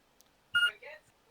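A computer lets out a single short electronic beep during an ARMA 3 gaming session, followed by a brief murmur, against an otherwise quiet background.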